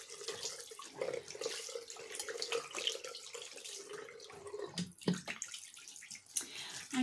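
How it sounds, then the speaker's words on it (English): Tap water runs steadily into a bathroom sink during a skincare routine, a soft, continuous splashing heard at low level with small knocks and handling noises. "I'm just going to be running some water into my sink so I can rinse this all off."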